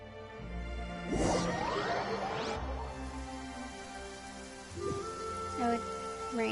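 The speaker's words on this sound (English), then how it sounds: "It's raining very loudly in my ears." Rain falling in the video game Genshin Impact, a steady patter beneath game music and whooshing effects, with soft sighs and tones scattered throughout.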